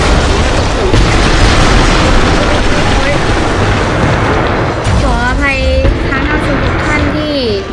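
Heavy explosions from the city-destruction video game City Smash, a loud sustained rumbling blast that fills the whole stretch, with someone talking over it.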